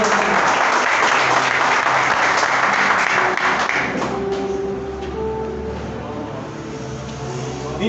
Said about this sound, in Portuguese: Aplaudam a palavra do Senhor